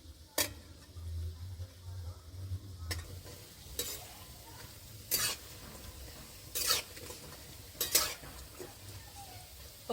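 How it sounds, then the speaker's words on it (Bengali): Mushroom pakoras fry in hot refined oil with a steady low sizzle, punctuated by several sharp metallic clicks and scrapes of a utensil turning them in the pan. "আমি পকোড়াগুলো উল্টে পাল্টে সোনালি কালার করে ভেজে নেব"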